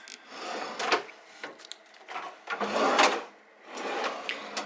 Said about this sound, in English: So 3 drawers with slow close on each side.